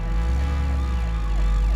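An ambulance siren wails loudly and continuously, its rising and falling tone sweeping steadily over a heavy low rumble of traffic.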